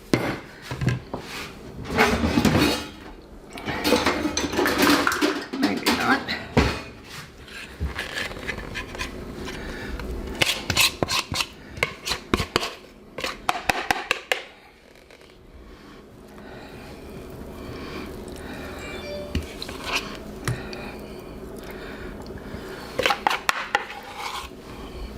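A spatula works through a big pan of thick chocolate fudge, making uneven scraping and rubbing strokes with clustered knocks against the pan, busy at first and quieter later.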